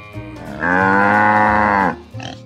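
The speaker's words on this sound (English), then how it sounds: "And the country cows" A cow gives one long, loud, sustained moo, steady in the middle of the clip, with quieter sounds before and after.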